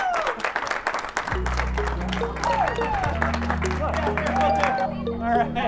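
Crowd cheering and applauding at the ribbon cutting for a dental health center's grand opening, a broad wash of clapping and shouts with sustained low horn-like tones and whistling cries running underneath, loud and continuous.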